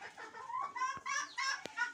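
Chickens, hens with three young roosters, clucking and chattering in short, overlapping calls, fairly close, with a couple of sharp clicks in between.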